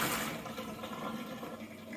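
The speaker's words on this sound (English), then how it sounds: "So all we do now is we drain it and go to the next step." Cooked pasta drained of its water, a steady close rush of pouring liquid that stays even for about two seconds with no voices.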